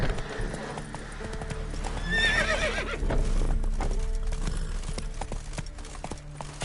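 Roach, a horse in The Witcher 3 game, gallops with steady rapid clip-clop hoofbeats and a brief whinny early on, under a busy ambient game soundscape.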